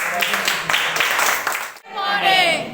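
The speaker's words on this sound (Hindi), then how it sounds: "जोरदार तालियां सिस्टर के" A crowd bursts into loud applause for a sister on stage at a Modicare family gathering, a dense wash of clapping that swells, dips sharply near the end, then rises again.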